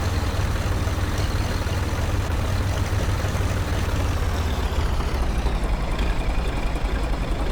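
A tractor engine in the farming game Professional Farmer 2014 runs with a steady low diesel rumble and droning, continuous and close throughout with no other sounds.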